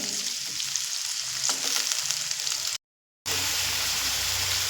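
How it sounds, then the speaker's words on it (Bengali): Potatoes fry in a pan with a steady, loud sizzle and occasional stirring scrapes, broken by a brief moment of silence before the frying resumes. "আলুগুলো ভেজে নেব"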